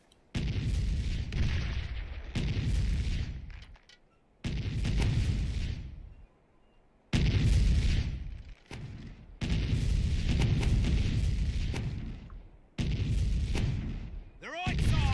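Broadside cannons of a sailing ship in Sea Dogs: To Each His Own, a string of loud booming blasts with rolling rumble separated by brief gaps, roughly six bursts across the span.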